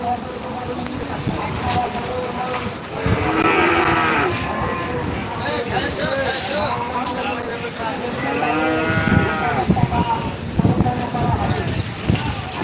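Cattle at a large livestock market in Rajshahi, Bangladesh, with several moos rising over a dense crowd murmur and voices, wind buffeting the microphone throughout.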